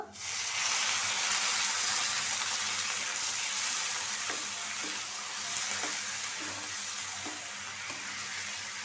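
Potatoes fry in a pan as a splash of water is added, giving a loud, steady sizzling hiss that flares at the start and continues evenly, with faint occasional knocks and no talk.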